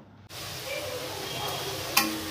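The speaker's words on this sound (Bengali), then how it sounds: "মশলাটা আমি কষাতে থাকবো" Spice paste being stir-fried in oil for a fish curry, a steady close sizzle with scraping stirs running throughout after a brief quiet start.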